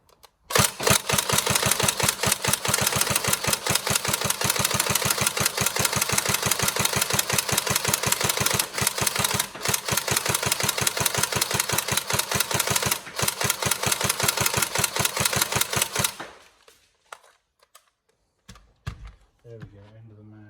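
Tokyo Marui SCAR-L NGRS airsoft electric gun emptying a full magazine in one long, rapid, evenly spaced mechanical burst, close and loud, then cutting off abruptly to near silence with a few small clicks.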